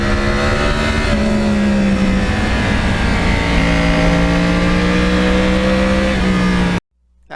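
A 2009 Yamaha R1 crossplane motorcycle drones loudly and steadily while being ridden, its pitch shifting with throttle and gear changes, before the sound cuts out suddenly.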